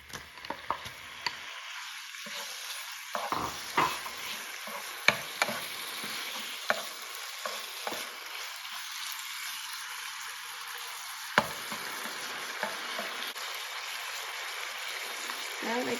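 Pork sizzles and fries in a pan for pad thai, a constant crackling hiss with scattered stirring clicks and scrapes from a utensil, close and fairly loud throughout with no talk over it.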